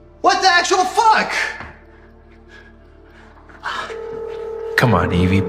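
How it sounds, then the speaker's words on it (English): A person speaks briefly, then a phone's dial tones and ringing sound, with a voice returning under steady electronic tones near the end. "Come on, Evie, pick up the phone, please."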